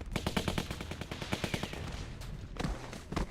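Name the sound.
AK rifle gunfire in The Walking Dead video game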